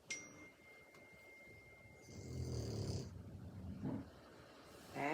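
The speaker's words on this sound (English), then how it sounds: "Maggie, you do have a scary growl" A dog growls low and rumbling in a snoring-like bout, loudest in the middle with a shorter burst near the end, close and fairly quiet.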